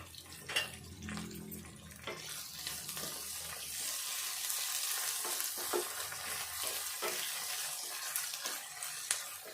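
Steady hiss of oil frying a tempering in a pan for a tomato egg curry, with occasional clinks and scrapes of stirring over the sizzle.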